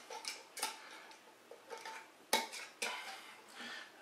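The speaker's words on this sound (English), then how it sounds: "I'm going to put the lid on." A lid is fitted onto a container holding a stirred ginger beer bug, making a few light clinks and taps with one sharper knock midway, close and fairly quiet.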